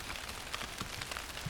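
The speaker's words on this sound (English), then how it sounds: "it's really cool to hear the rain hit the leaves here" Rain patters onto salal bush leaves in a forest, a steady close-up spray of small drops and soft taps running throughout with no voices.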